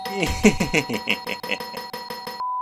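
A doorbell chime rings a quick series of bright, rhythmic bell-like notes, fairly loud and close, before cutting off abruptly near the end.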